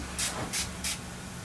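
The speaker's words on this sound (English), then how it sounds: "that's where I apply the spray" Three short, evenly spaced bursts of a hand spray mist during a diamond and gemstone therapy session, close and crisp over a quiet room.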